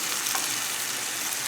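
Shrimp sizzling in a hot pan, a constant bright, crackling hiss close up with no talking.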